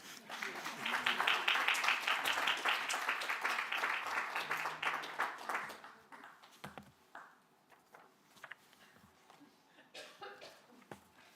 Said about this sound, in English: You can applause in the meantime.